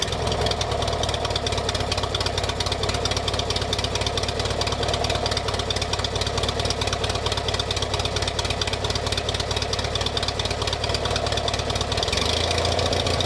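A restored 43-year-old British garden tractor engine runs close by, loud and steady, with a rapid even chugging throughout and a slight change near the end.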